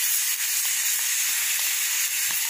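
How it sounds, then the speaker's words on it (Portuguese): Chopped onion and hot pepper sautéing in a pan, a steady soft sizzle and hiss with faint scraping ticks from stirring, close and continuous with no voices. "Vai dar uma refogada, né? Para dar uma murchada nessa cebola de cabeça."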